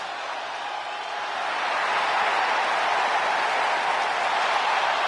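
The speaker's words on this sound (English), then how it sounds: "The crowd on their feet." Arena crowd in the WWE 2K26 video game roaring for a Falls Count Anywhere World Heavyweight Championship match, a dense, steady wall of cheering that swells louder after the first second and holds, with no talk over it.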